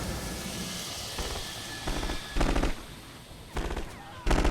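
Machine-gun fire from the video game The Great War 6.0, a light machine gun group shooting in several rapid bursts with short gaps, over a steady low battlefield rumble.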